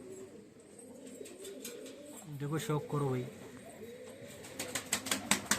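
Pigeons coo in a low throaty burble close by, ending in a rapid run of wing flaps, while someone talks over them.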